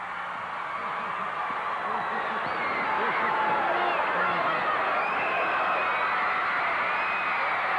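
Large arena crowd at a 1984 WCCW championship wrestling event, a steady roar of cheering and chatter that swells slightly over time, with voices mixed throughout.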